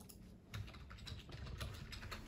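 Quiet, quick keystrokes on a computer keyboard, a run of light clicks at an uneven pace, close by and soft, with no talk.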